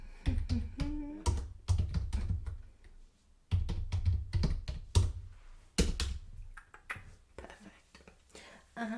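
Soft scratching and tapping of pen on paper while notes are written down, close and quiet, intermittent under a whispering voice in a flirty dating-agency role play.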